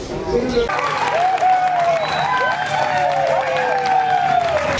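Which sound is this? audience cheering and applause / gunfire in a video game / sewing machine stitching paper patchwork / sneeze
audience cheering and applause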